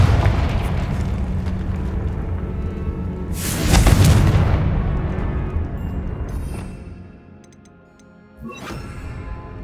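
Blasting spell explosions in the Hogwarts Legacy video game, a heavy booming burst that swells and rolls off over several seconds, followed by a fainter sharp crack near the end.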